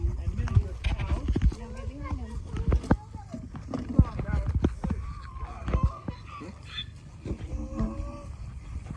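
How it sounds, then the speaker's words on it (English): Miniature horses move about at a farm, their hooves making scattered clip-clop thuds close by, while people talk over them throughout. "These are miniature horses."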